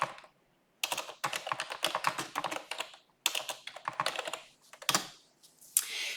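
A computer keyboard is typed on close by in short bursts of quick, crisp key clicks separated by brief pauses as a spreadsheet sheet name is entered, with no talking.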